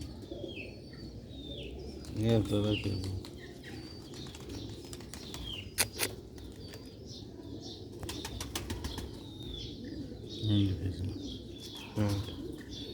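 Sialkoti pigeons cooing in low, throaty bursts at close range, with wing flaps, a sharp clap and scattered chirps in between, while someone talks over them.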